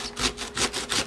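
A knife saws back and forth through the tough top of an artichoke, giving three rough, rasping strokes up close, with no talk over them.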